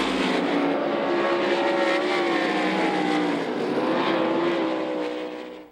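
USAC midget race cars thunder around the Knoxville Raceway oval, a loud, continuous engine roar with rising and falling pitch from several cars, holding steady before fading out at the very end.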